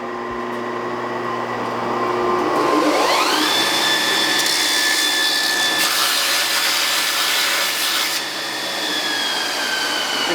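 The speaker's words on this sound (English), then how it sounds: "you can just walk it over to your grinder" A bench grinder cleaning up a forged steel piece, its motor whine rising sharply as it spins up, then holding a steady loud hum with harsher grinding noise through the middle.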